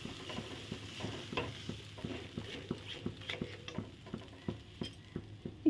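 A spoon stirring potol masala with milk just added in a pan, scraping in a steady regular rhythm over a soft simmer, close and moderately quiet, no voices.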